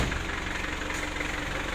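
A 2000 Mitsubishi Kuda GLS idles with a steady low rumble and faint rhythmic knock, moderately quiet and heard alone without voices.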